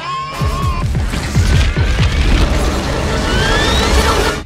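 A starship explodes after its self-destruct sequence in a Star Trek scene, a dense, roaring blast with deep rumbling booms and crackling debris that carries on for several seconds.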